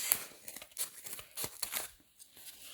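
Scissors cutting around a sock for a sublimated Christmas ninja pattern, a close series of uneven snipping and crinkly fabric-tearing sounds in short bursts with brief pauses.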